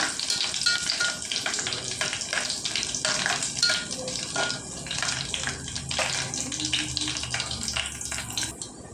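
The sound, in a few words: dried red chillies frying in oil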